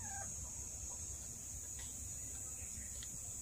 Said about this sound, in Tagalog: May mga manok dito, hindi naman aming manok.